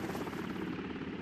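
A military Black Hawk helicopter on a combat medevac flight into a hot landing zone in Afghanistan, its rotor thumping steadily and loudly throughout the short clip with no voices.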